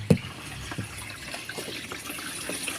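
Water drains from a twin tub washing machine that had a clogged drain, a steady close wash of running, gurgling water with a sharp knock at the start and no talking.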